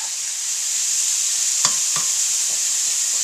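Onion sizzles steadily in a pan for a few seconds, a close even hiss with a couple of soft clicks from a utensil.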